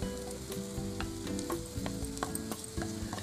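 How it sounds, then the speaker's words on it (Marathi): Grated coconut sizzling in two spoons of hot ghee over a low gas flame, a steady loud crackle with frequent clicks of stirring against the pan, no voices. "आता मी हे खोबरं सगळं ह्याच्यात घालते।"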